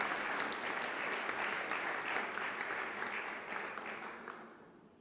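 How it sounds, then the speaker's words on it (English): A crowd at a press conference agreement signing applauds with dense, steady clapping that holds for several seconds and then gradually thins out. "A round of applause for the signing of this agreement."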